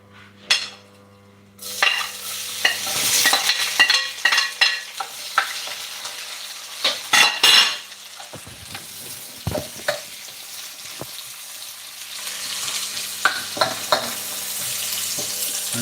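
Onions and garlic sizzle in hot oil in a pan, with loud stirring scrapes and clinks of a utensil against the pan over a steady frying hiss, with no talking.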